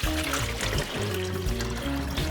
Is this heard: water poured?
yes